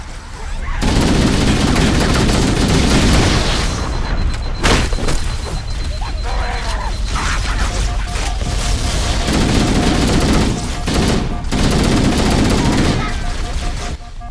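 Enemy gunfire in Halo CE Anniversary, loud and sustained automatic bursts with booming impacts, nearly continuous and dense, with a player speaking over it.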